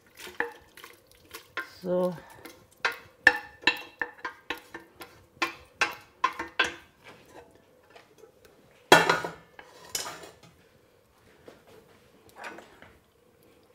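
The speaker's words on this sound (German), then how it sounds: "Dann kommen auch noch die Zwiebeln aus dem anderen Topf dazu." Onions tipped in from another pot and stirred into a venison goulash make a series of close clinks and scrapes of a spoon against the pot, with one louder clatter partway; a voice speaks a single short word.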